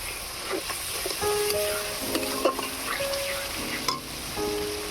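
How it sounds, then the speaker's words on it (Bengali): Ginger, garlic and onion paste frying in a pan for a curd and pointed gourd curry, a steady close sizzle with scraping stirs and a few metallic clinks, no voices. "আদা রসুন পেঁয়াজটাকে ভালো করে ভেজে নেব।"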